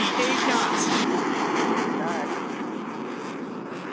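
A Super Hornet jet flying a pitch rate demonstration at the NAS Oceana air show gives a steady, broad jet roar that fades slightly, with crowd noise and announcer talk mixed underneath.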